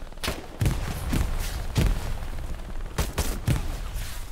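Several grenades go off in a shooter video game, heavy thumping blasts landing in quick irregular succession over a constant rumbling game backdrop.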